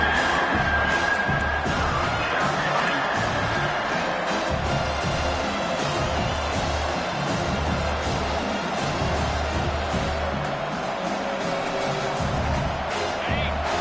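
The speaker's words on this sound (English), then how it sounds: "Decibels rising as the crowd gets behind this defense on 3rd down" Football stadium crowd cheering on third down, a broad sustained roar with rhythmic low surges and scattered shouts, steady and fairly loud throughout.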